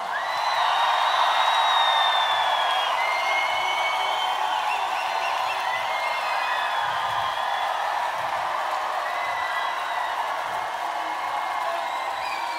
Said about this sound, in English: I'd like for the cameras to look at this crowd and listen to this crowd.